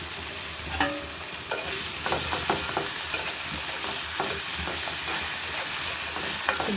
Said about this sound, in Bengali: পিস নিয়েছি, সামান্য তেলের মধ্যে ভেজে নেব।